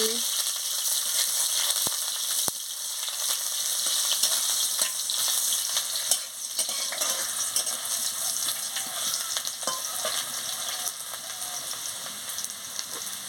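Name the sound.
chopped onions frying in a pan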